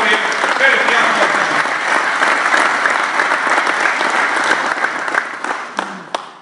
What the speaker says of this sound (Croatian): veliki aplauz